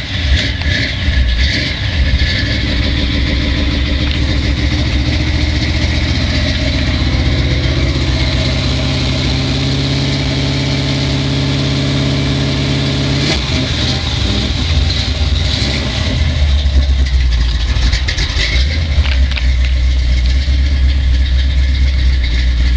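1977 Oldsmobile Cutlass idling just after a cold start: a loud, steady low rumble with a few shifts in engine pitch partway through, alone with no talk.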